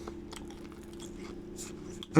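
Close-up crunching as crisp homemade cheesy chips are chewed, irregular bites with a voice briefly heard at the end.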